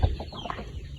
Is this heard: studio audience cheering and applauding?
no